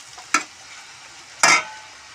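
Chow mein being stirred in a frying pan, two brief scraping tosses about a second apart, close and otherwise quiet.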